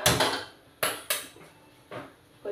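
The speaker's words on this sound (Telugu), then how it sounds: "గ్యాస్ మీద ఒక ప్యాన్ పెట్టుకుందాం అండి." A metal pan set down on a gas stove, heard as a few sharp, close clanks and knocks of cookware spaced unevenly over a couple of seconds, with no talking.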